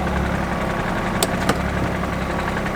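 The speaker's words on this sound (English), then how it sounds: "That is flywheel chatter" BMW E36 with flywheel chatter, heard as a steady low engine idle rattle with a couple of brief sharp clicks partway through, close and continuous, no voices.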